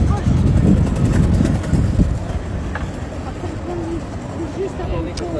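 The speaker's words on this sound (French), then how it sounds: "Un peu de vent." Wind gusts rumble across an outdoor microphone as a steady low buffeting roar, strongest in the first two seconds and then easing to a softer continuous rush, with faint background sounds scattered through.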